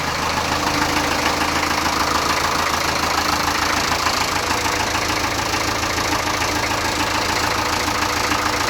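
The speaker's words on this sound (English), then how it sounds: "Idle's gone down a little bit low. Just notch it up a bit on the hand throttle." A Land Rover 2.25 diesel engine idling on a hand throttle after a month sitting, a steady close clattering knock with a constant low rumble, running evenly throughout without talk.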